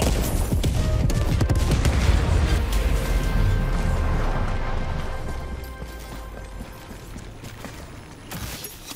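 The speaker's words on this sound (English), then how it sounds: "Throwing grenade." Grenade explosion in video game combat: a heavy, loud blast with crackling gunfire that stays dense for several seconds, then trails off into a quieter rumble and scattered rattles.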